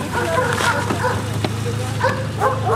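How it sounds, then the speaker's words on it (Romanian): Dog barking outdoors, a few short yips and barks scattered over a steady low engine hum, with people talking nearby. "Uite, câine acolo."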